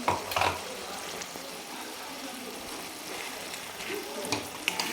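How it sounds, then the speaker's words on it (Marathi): Crushed peanut powder is stirred into partly cooked brinjal in a pan. A soft, steady sizzle runs under scraping stir strokes that swell near the start and end, with no talk. "आणि छान मिक्स करून घेऊ आपण याला मस्त एकदम"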